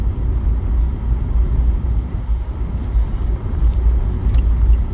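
Car driving on a hot day, a steady low engine and road rumble heard from inside the cabin, continuous and fairly loud with no talking.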